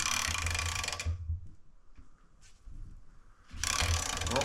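A JB Weld–repaired ratchet torquing a 16mm bolt toward 50 foot-pounds gives dense bursts of clicking at the start and end, with a quieter stretch of faint mechanical rattling between them.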